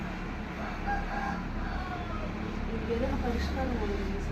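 A rooster crows among chickens roaming a home vegetable garden, the call drawn out over steady outdoor background noise, with a voice likely talking nearby.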